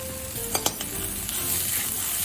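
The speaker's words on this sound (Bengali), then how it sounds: "সব কিছু আমি একটু ভাজা ভাজা করে নিলাম" Ash gourd chechki frying in a pan sizzles steadily while a utensil scrapes and clinks against the metal in a few quick stirs, close and clear, with no voices.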